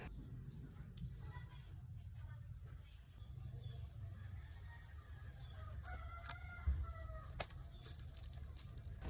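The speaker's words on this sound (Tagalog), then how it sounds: "Kabanha po daning mga manok" Chickens cluck and a rooster crows faintly in the background over a low hum and distant chatter.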